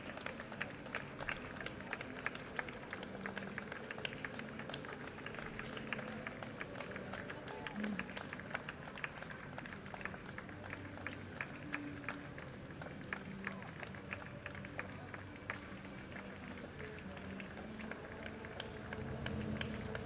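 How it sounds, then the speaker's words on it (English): A crowd lining a Veterans Day parade in San Jose in 2022 applauds in a steady, dense patter of clapping that runs throughout, mixed with crowd murmur and scattered voices. "Nice round of applause."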